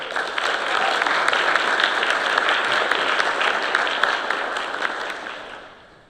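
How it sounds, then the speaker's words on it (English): Audience at a cadet cresting ceremony gives a loud, dense round of applause that holds steady for several seconds, then fades out toward the end. "Let's give a round of applause."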